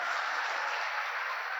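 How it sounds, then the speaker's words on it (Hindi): Audience applause at a college corporate campus event, a dense steady wash of clapping from a crowd, held evenly throughout with no talking over it. "एक बार जोरदार तालियों के साथ।"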